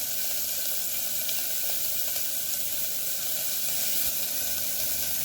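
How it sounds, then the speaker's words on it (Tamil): Onions sautéing in a pan produce a constant, even sizzle at moderate volume, with no pauses and no voices over it. "அடுத்ததாக வெங்காயம் போட்டுக்குவோம். கொஞ்சம் வதங்கட்டும் வெங்காயம்."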